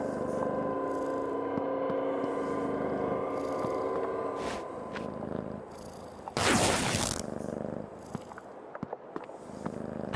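A cat purrs in the video game Creepy Tale 2, a soft continuous rumble over a low hum with a brief louder burst partway through and faint clicks near the end.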